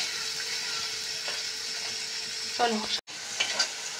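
Masala for a home-style vegetable dal fries and is stirred in a pan, making a constant close sizzle with occasional spoon scrapes, briefly interrupted near the end by a short spoken word.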